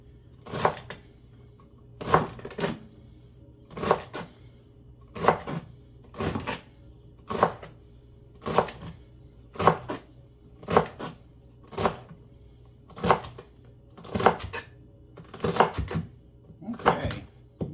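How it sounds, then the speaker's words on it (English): A knife chops vegetables on a cutting board for a beef chipotle vegetable soup, a steady run of about seventeen sharp, evenly spaced strikes, close and clear, with no talking. "sliced and ready to be diced."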